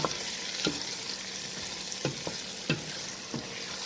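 Garlic being stirred into ackee with scallion in a hot frying pan for a Jamaican ital dish, a steady close sizzle broken by several soft scraping stirs at irregular intervals.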